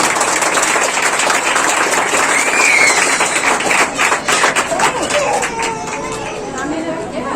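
A church congregation claps hands in praise of Jesus at a worship service, a loud dense burst of applause with crowd chatter that thins toward the end.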